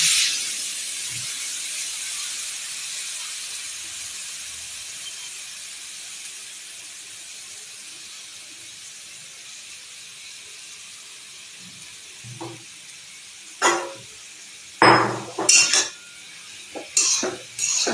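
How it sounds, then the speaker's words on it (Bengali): Chopped cabbage, onion, ginger and garlic sizzle in oil in a pan, starting as a hiss that fades, then spoon-on-pan scrapes and clatters come in bursts toward the end. "আমি একটু তেলে নাড়াচাড়া করে নিচ্ছি"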